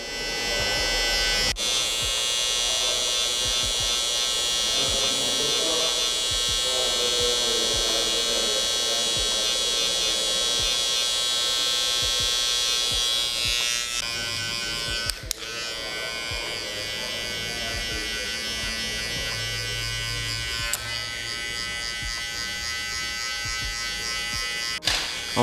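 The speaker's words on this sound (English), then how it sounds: "close the clipper blade a little bit" Electric hair clipper buzzing steadily and loud throughout a barber's fade cut, a continuous close hum with brief shifts as the blade setting is closed and guards are changed.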